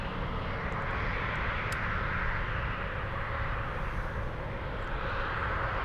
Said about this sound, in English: Let's go for the next takeoff.